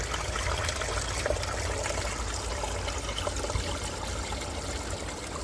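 A mountain valley stream runs beside forested land in Pocheon, Gyeonggi: a steady, close rush and burble of flowing water that carries on without a break.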